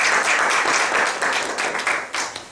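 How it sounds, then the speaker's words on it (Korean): Short burst of audience applause welcoming a university professor to a teaching workshop, dense clapping that tapers off within a couple of seconds. "박수로 한번."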